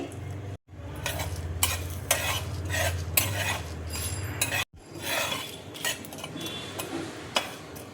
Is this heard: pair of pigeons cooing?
no